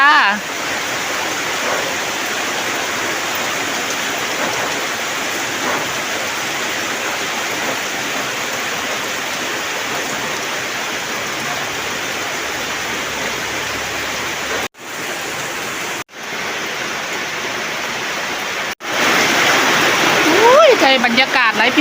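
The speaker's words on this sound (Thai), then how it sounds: "ฝนตกซาซาเลย" Heavy rain pours down in a constant loud hiss and patter, with a few sudden breaks in the sound and a faint voice at the end.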